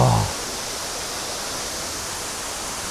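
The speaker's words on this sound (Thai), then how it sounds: "ได้ยินเสียงน้ำตกใหญ่แล้ว" Large Huai Tueng Thao waterfall on a forest trail, heard as a steady, dense rushing roar that fills the air without pause after a brief tone at the start.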